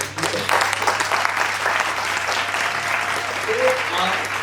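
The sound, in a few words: audience applause at a book launch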